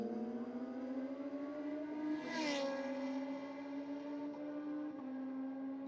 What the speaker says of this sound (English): Kawasaki ZX 14R dialed in with a 975